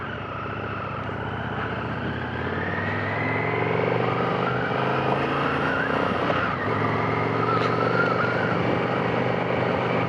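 An Indian FTR 1200 Rally motorcycle runs and pulls away, its engine note rising through revs and gear changes as it rides, a steady loud drone with shifting pitch and no talk.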